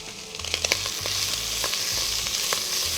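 Chicken breast frying in mustard oil with onion, chopped ginger and garlic, producing a close, steady sizzle with scattered scraping stir strokes and a low hum underneath.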